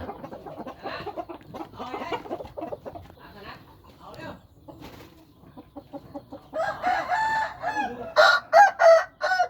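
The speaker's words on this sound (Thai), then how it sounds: "ไก่บ้านพี่เขาเยอะนะครับ" Fighting cocks kept at a home crow and cluck: scattered clucks and murmuring calls mix with a voice at first, then several loud, close crows ring out in succession toward the end.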